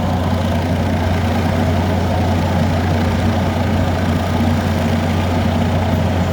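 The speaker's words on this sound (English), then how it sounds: "he's just eating them up with that stump grinder there" A forestry mulcher's stump grinder works through big stumps on a Michigan property, its heavy engine droning loud and steady throughout at a constant pitch, with no talk.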